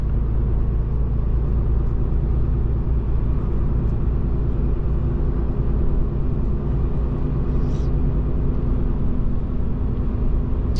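Continuous heavy low rumble of a Ram 3500 truck with a Cummins diesel engine cruising around Calgary, steady and loud throughout with faint road noise above and no speech.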